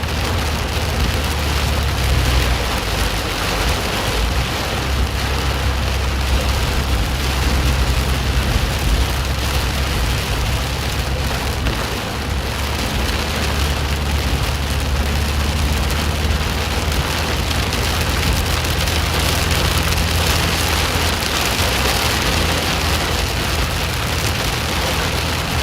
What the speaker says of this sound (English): really had all this rain form out in front of it